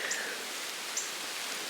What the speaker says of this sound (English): It's raining, and it's been slow.